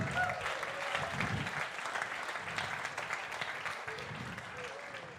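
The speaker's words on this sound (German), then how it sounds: "Grossen Applaus für Amea." Sustained clapping from a congregation during an intergenerational church service, dense and even for several seconds with a faint murmur underneath.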